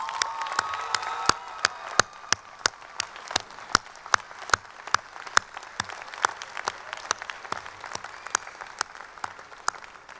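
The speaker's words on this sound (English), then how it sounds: "let's give them a big round of applause" Applause at a Bergen Community College commencement ceremony in 2013, with sharp individual claps standing out in a fairly regular rhythm over a softer crowd of clapping, moderately loud and without talk.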